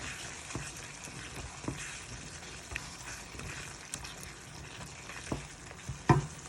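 Spices stirred into mutton kidney curry frying in a pan, Jaffna style, a quiet steady sizzle broken by occasional spoon scrapes and clinks, with no talking.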